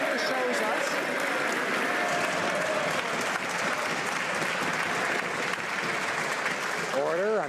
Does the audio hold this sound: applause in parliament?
yes